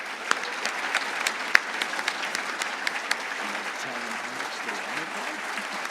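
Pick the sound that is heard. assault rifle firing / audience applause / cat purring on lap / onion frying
audience applause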